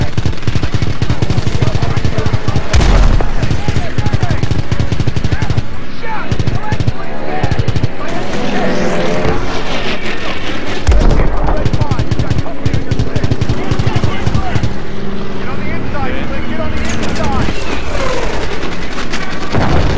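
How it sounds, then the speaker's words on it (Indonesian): Rapid bursts of automatic gunfire crackle loudly in a Call of Duty Battle of the Bulge mission, sustained rattling volleys punctuated by a couple of heavier booms, with game chatter and voices mixed in. "Kita tembakin dia, Pak."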